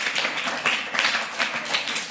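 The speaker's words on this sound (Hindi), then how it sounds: "ताली बजाओ इनके लिए।" Steady clapping from a classroom of children applauding a classmate, a continuous patter of many hands at moderate loudness, close and lively without speech.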